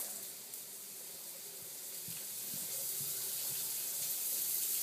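Shower water runs steadily in a bathroom, a continuous broadband hiss of spray that builds slightly louder over the few seconds with no voices.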